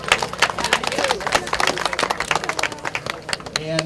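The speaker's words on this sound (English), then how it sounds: "we'll give a big round of applause to all of those that helped to organize the hike" Applause and clapping from a crowd at an outdoor Hike for Hospice charity event, a dense burst of many hands close by that carries steadily for several seconds with a murmur of voices underneath.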